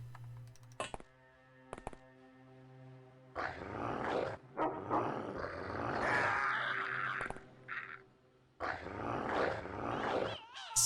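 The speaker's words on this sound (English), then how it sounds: "Cyber dog." A cyber dog in the X-Com Files game growls and snarls in several rough bursts, fairly close, with gaps of quiet and faint mechanical hum between them.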